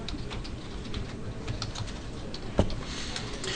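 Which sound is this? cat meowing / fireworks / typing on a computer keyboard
typing on a computer keyboard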